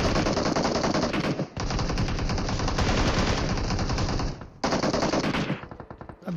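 Rapid automatic gunfire from the battle royale game BGMI, loud and dense in long sustained bursts, with two brief pauses and a thinning, scattered tail at the end; no voices.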